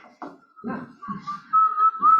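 A person whistles a simple tune with a sustained, wavering melodic line rising toward the end, close and clear, with soft breathy and rustling sounds around it and no speech.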